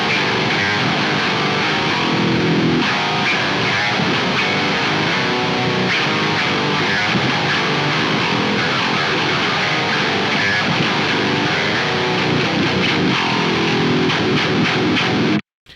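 Dense, heavily distorted 8-string guitar in drop E tuning through a high-gain amp preset churns out continuous low chugging riffs for about fifteen seconds, loud and unaccompanied by voice, then stops abruptly.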